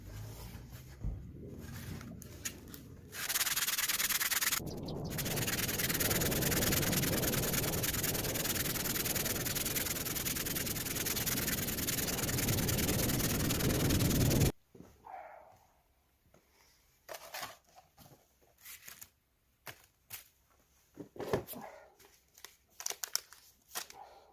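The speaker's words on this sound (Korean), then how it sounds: "오늘은 지금 100방부터 사포를 하겠습니다" Steady, rough scratching of 100-grit sandpaper rubbing back and forth on a jujube wood bowl for about ten seconds, followed by quieter scattered rustles and taps.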